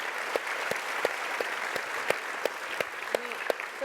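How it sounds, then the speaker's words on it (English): Dense applause from an audience fills the space, a steady wash of clapping with a few sharper individual claps standing out. "So we should clap for that."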